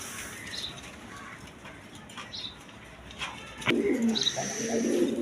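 A pair of red Sirazi Lahori pigeons coo softly close by, with faint quiet calls at first, then a fuller run of low coos near the end, and a brief rustle of wings.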